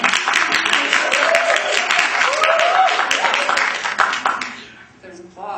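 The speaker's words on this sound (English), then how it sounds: "There's applause." An audience at a student government debate applauds in a steady, dense burst of clapping that fades near the end, with voices talking over it.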